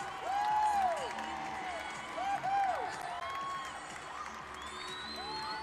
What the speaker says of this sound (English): And now they're also applauding for the score over here on the Towson floor.